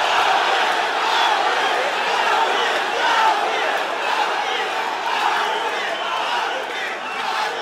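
A loud crowd roars and cheers nonstop at a live fight between Anatoly Tokov and Arbi Aguev, a dense wall of voices filling the arena throughout.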